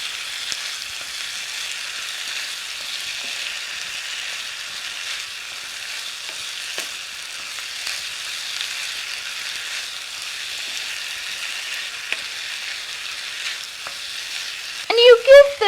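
Tapioca pearls for sabudana khichdi fry and get stirred in a pan, giving a steady close sizzle with light stirring throughout and a short clatter near the end.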